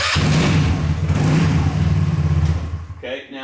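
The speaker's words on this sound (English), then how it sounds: "This is the front engine." The front engine of a double-engine go-kart rumbles and revs up close, throbbing unevenly, then cuts off as a voice speaks at the end.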